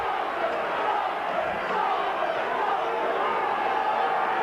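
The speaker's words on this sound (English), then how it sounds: "Chants of Salford, Salford, and counter chants of Cougars, Cougars" A packed rugby league crowd at Salford in 1995, Salford fans chanting against Cougars supporters, forms a dense, steady roar of massed voices with no break.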